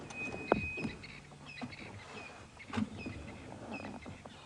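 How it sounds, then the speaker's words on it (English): Scattered bird calls in the African bush at sunset, faint and somewhat distant over a low rumble of a stopped safari vehicle, with a few sharper chirps standing out. "You can hear the birds are going crazy."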